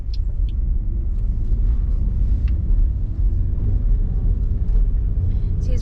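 A car moves off with a little gas during a driving lesson, a low steady engine rumble and road noise close up, with faint clicks and brief voices in the background.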